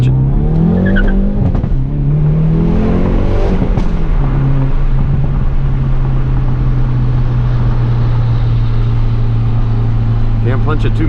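Hyundai Veloster N accelerating hard on city streets at night, a loud steady engine drone rising in pitch after a brief burst of revving, heard from inside the car, with some talk early on.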